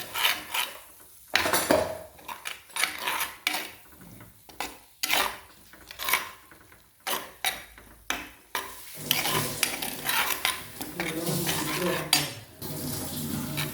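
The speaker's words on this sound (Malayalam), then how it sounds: "ഓക്കെ, നമുക്ക് കുറച്ച് ഇളക്കി കൊടുക്കാം." Squid curry being stirred in a pan after chicken masala goes in, with repeated clinks and scrapes of a metal spoon against the pan in irregular bursts, close and fairly loud, a soft sizzle beneath.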